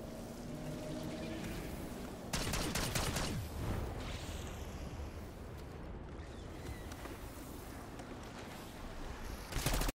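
Rapid gunfire in Black Ops 6 Zombies on the Terminus map shoots down spores, a dense continuous rattle of shots with sharp bursts at the start and end over a busy game soundscape.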